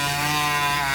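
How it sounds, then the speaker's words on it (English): A chainsaw cutting log slices from a wood log, a steady high-revving buzzing drone held loud and close for a brief moment. "Cutting them with a chainsaw was tricky."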